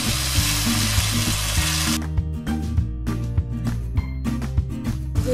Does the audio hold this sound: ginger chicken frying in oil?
yes